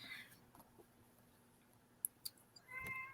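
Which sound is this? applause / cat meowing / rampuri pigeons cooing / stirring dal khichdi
cat meowing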